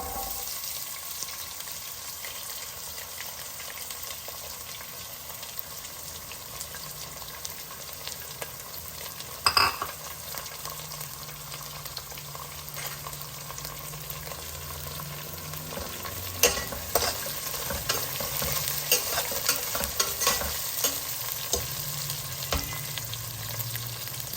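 Raw onions frying in a pan for a jowar upma, a steady close sizzle running throughout with occasional stirring clinks and scrapes, no talking.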